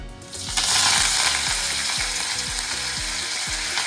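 Curry leaves drop into oil where urad and chana dal are frying to light brown, setting off a sharp, crackling sizzle that swells and holds steady over a rhythmic mechanical-sounding background.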